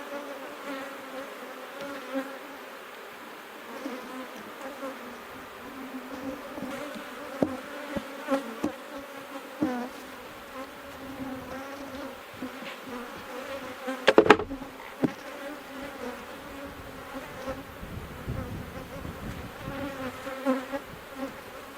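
Honeybees buzz steadily around hive frames covered in fresh new comb with a patch of nectar, a close, continuous hum with small clicks and one brief sharp knock partway through.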